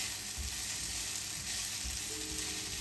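Vegetables cut for ratatouille fry in a pan, making a steady broadband sizzle that holds at even loudness throughout, with faint clatter and no talk.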